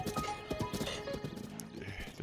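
Horse hooves clip-clopping at a steady riding rhythm in The Legend of Zelda: Breath of the Wild, with a horse whinny and light in-game ambience, close and moderately loud.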